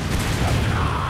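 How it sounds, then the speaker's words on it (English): A loud, dense explosion from the video game Resident Evil 5 fills the whole short moment as a continuous broadband roar with no clear individual blasts. "That was quite the explosion."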